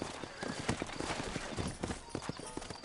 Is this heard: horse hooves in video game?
yes